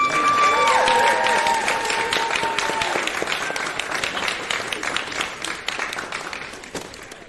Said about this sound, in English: A round of applause for our finalists